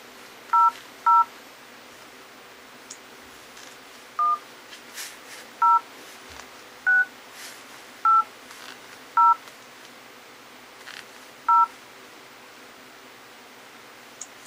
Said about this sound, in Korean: 키패드를 한번 눌러보죠.